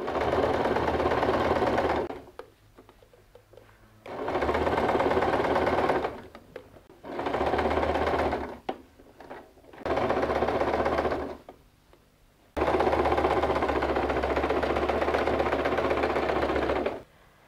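A sewing machine stitches a seam on a denim bag made from recycled jeans, running in loud close bursts of several seconds each, separated by short quiet pauses, with no talking.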